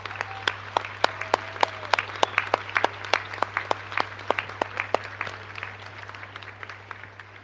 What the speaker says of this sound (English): Give them a huge cheer and round of applause.